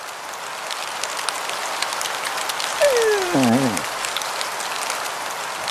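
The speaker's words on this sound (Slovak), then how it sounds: "No dážď ich všetky zmil." Steady rain patters on a surface throughout, with a faint gliding tone curving downward partway through.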